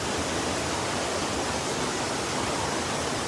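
Floodwater rushes down a sloped road after a Tibet earthquake, with cars swept along in it, a dense, steady roaring wash of water that stays even throughout and carries no voices.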